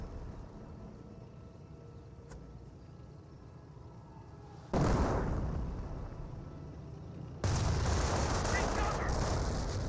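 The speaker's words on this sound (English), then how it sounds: "Flak 88 still firing away." Two heavy booming shots from a Flak 88 anti-aircraft gun in Company of Heroes, each a loud sudden blast with a lingering rumble, following a quieter stretch of battle ambience under a commentator's voice.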